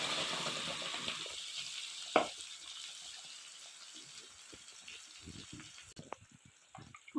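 Onions fried with whole spices for a jackfruit (echor) curry, with ground spices then added: a soft, steady sizzle that fades gradually, with a few faint stirring knocks and one sharper clink.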